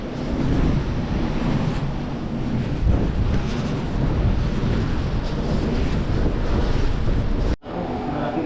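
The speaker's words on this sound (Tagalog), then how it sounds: "medyo malakas po ang hangin dito" Strong wind roars across a seashore in a loud, steady buffeting rush that batters the microphone, with surf churning beneath, broken by a sharp momentary drop near the end.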